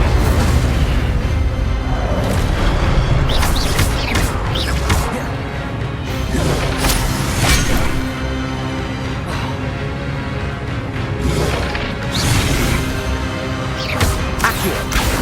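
Incendio fire spells cast repeatedly in Hogwarts Legacy, a series of whooshing bursts and crackling impacts over a dense, constant bed of game sound and music, loud throughout.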